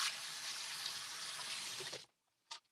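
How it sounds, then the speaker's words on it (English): A kitchen tap runs steadily as hands are washed under it, a loud, continuous broadband gush lasting about two seconds before cutting off, followed by a couple of faint clicks and knocks. "I'm going to wash my hands, so just don't mind the water that's running"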